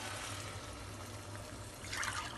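Water is poured from a glass onto rice in a pot while making egg biryani, giving a steady, soft, continuous splash that stays faint throughout.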